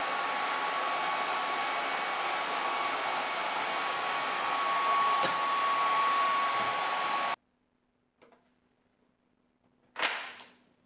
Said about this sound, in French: Super bien passé avec le sèche-cheveux